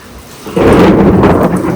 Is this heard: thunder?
yes